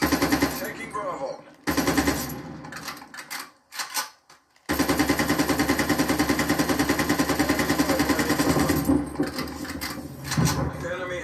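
Sustained rapid automatic gunfire from a shooter video game played on a PS5, loud bursts with a short pause midway, under in-game radio voices.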